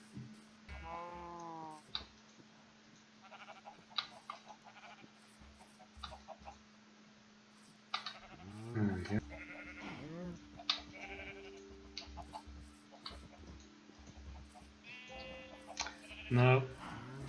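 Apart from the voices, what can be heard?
sheep bleating in a video game farm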